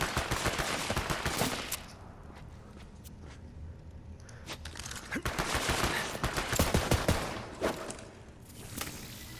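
Shotgun fire in the video game Borderlands 3 comes in rapid bursts of sharp blasts and crackling impacts, loud and dense, with a brief lull in the middle before the shooting resumes.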